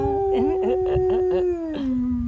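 An Alaskan Malamute howls in a long, wavering tone, rising and falling with yelping breaks, close and loud, then sinks into a lower drawn-out note.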